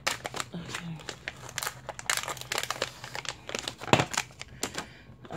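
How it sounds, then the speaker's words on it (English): Plastic wrappers crinkle and crackle in close, irregular bursts, quiet overall with a few sharper crunches. "sorry for all the crinkly wrappers and a lot of noise making"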